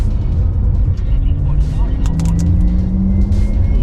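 A Porsche Taycan electric sports car drives on Sepang Circuit in Sports Plus mode with a continuous rumble and a rising synthetic whine, while people talk over it inside the cabin.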